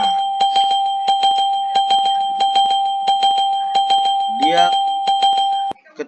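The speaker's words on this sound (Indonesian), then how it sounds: "Ketika belnya dibunyikan" A bell rings repeatedly in an even, rapid pattern of bright electronic dings for several seconds and then stops abruptly, with a brief faint voice-like sound partway through.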